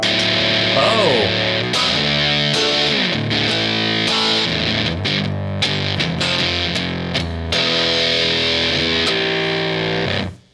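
Guild Starfire 4 electric guitar played hard and aggressively with a distorted tone, dense chords and riffs ringing continuously and loud for about ten seconds before cutting off.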